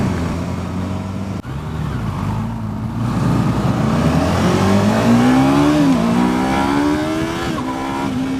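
A 2015 Yamaha R3 (YZF-R3) motorcycle engine revs steadily upward toward redline, loud and close throughout, its pitch climbing in several pulls with brief dips between gear changes, with no talking.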